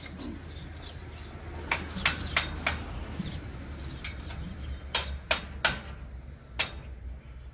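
Sharp metallic knocks ring out in an irregular series, a few clustered strikes with pauses between, close by over a low steady background hum.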